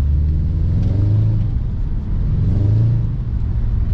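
A Subaru car engine revs in two rising and falling swells while the clutch is worked, a steady close rumble with no talking.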